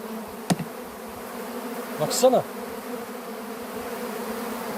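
Buzzing of bees drifting past at close range, with a sharp tap early on and a louder swell of buzzing midway, plus a brief spoken word.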